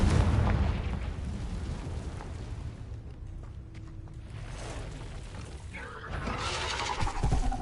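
A Confringo fire spell blast in the Hogwarts Legacy video game, near an Acromantula cave: a heavy boom at the start, then a fading rumble and another burst of crackling impact near the end.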